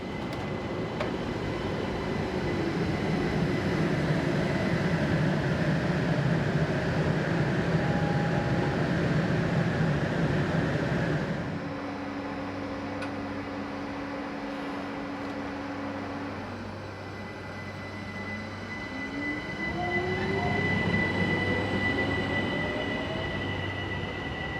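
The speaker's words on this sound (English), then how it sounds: "a local stopping service formed by Class 4024 unit number 122" An Austrian Class 4024 electric multiple unit on a local stopping service runs steadily nearby, with a continuous rumble and hum, then slows with drawn-out wheel squeal and rising electric whine.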